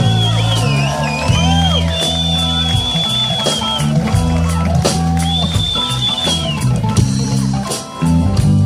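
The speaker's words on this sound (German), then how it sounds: "Applaus für Joe!" Street festival crowd cheering and whooping for a rock band's drummer, shouts and yells rising over a loud band still playing underneath, close and busy.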